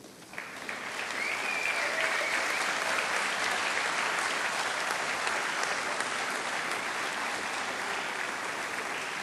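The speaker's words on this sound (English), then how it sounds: "turn backward, and applaud to those who accompanied you throughout this journey" A graduation ceremony audience rises and applauds the loved ones who supported the graduates. The applause is dense and sustained, swelling within the first second and holding steady and loud for the rest.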